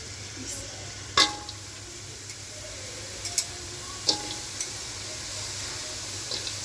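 Bottle gourd stems frying in a wok give a soft, steady sizzle, with a few clicks and clinks of stirring scattered over it.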